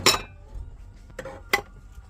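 Metallic clinks and clanks as a 1.4-litre metal cooking pot is picked up and set down, three distinct bright hits with quiet handling between.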